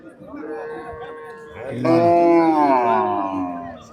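A cow with her calf at a cattle market gives two long, drawn-out moos close by, the second louder and deeper, with faint background noise between.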